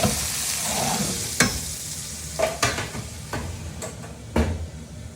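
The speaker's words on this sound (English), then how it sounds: "Now I'm just going to pop those just like that onto the grill and allow them to form a nice little" Miso-glazed celeriac cooks on a grill with a continuous sizzle, punctuated by a few sharp clicks and clunks of utensils close by.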